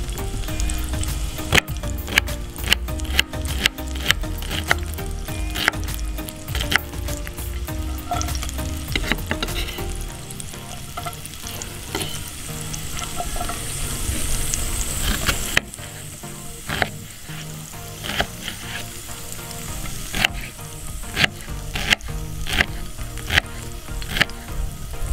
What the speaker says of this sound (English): we're just gonna add the shallots to the pan here that's got the fat in it